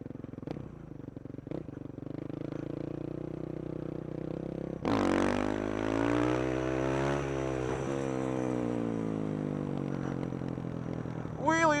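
A supermoto motorcycle engine revs hard while the rider pulls wheelies, the near, loud drone surging upward and holding high before easing off and climbing again.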